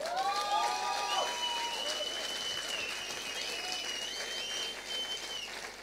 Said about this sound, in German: Ich freue mich über den Beifall und den Zuspruch